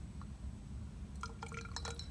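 Aqueous bromine is poured from glassware into a test tube holding cyclohexane, a faint, brief trickle with small glassy clinks and drips over a low background hum.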